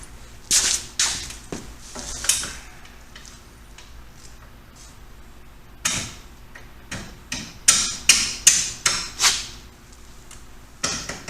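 Hammer blows driving a bolt through an engine mount during an engine pull, a spaced series of sharp metallic whacks with a few early strikes and a faster run of loud hits near the end.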